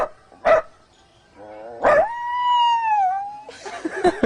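A human voice imitates a dog, giving two short sharp barks and then a drawn-out wavering howl, close and fairly quiet.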